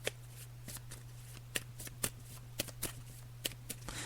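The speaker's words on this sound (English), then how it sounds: "So I'm just shuffling the cards now." Near, quiet hand shuffling of a tarot deck for a psychic reading: a string of crisp card riffles and slaps in a loose rhythm over a low steady hum.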